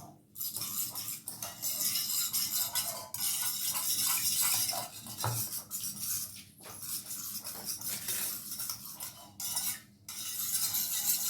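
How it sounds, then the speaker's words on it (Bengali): Curd (dahi) for raita is beaten with an egg beater in a bowl, making a continuous whirring, clattering scrape with a few brief pauses. "আর এই এগ বিটারের সাহায্যে আমি এটাকে ভালো করে ফেটিয়ে নেব।"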